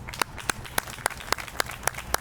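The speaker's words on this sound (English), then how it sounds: "So just a huge round of applause for GHS and their team." Steady, rhythmic clapping with evenly spaced sharp claps, fairly loud and close, like one person clapping along with no talk, at a historical marker dedication ceremony.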